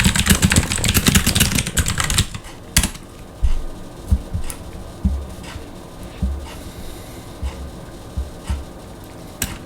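Someone types a command on a computer keyboard: after a loud burst of broadband noise, a series of distinct, moderately loud key presses and clacks follows at an irregular pace, close by with no talk.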